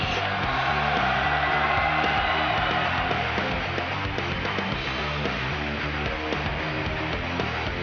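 A large crowd at DreamHack Open Tours 2015 StarCraft 2 event cheers and roars continuously for the Final 8 players, a dense wall of voices with whoops and yells throughout, loud and sustained.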